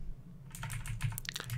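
Quick typing on a computer keyboard at close range, a fast run of light clicking keystrokes over a faint background hum, with no talking.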